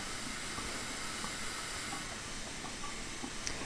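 Steam train brakes in the Train Simulator 2018 game give a steady, continuous hiss of released air that holds at an even level for the whole stretch, with no voices over it.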